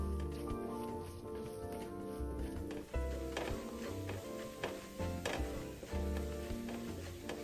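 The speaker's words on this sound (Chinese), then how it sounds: "开中低火，一起爆香" Dried shrimp, minced ginger and garlic sizzling in oil over medium-low heat, a soft, steady frying hiss with intermittent stirring clicks and scrapes in a quiet kitchen.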